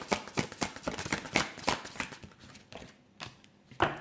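Tarot cards riffle and slap as they are shuffled during a card reading, a close, quick run of papery bursts that slows and thins out toward the end.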